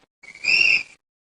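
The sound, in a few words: quiz team blowing a whistle to answer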